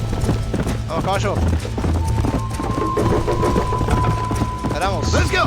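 Rhythmic hoofbeats of a galloping horse in the video game Red Dead Redemption drum steadily throughout, with a person talking excitedly over them and a whinny near the end.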